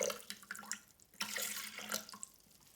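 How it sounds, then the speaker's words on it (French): Water runs into a Thermomix bowl in uneven splashy bursts, with a brief pause before a stronger, fuller pour that trails off. "on commence cette recette en mettant 300 g d'eau dans le bol"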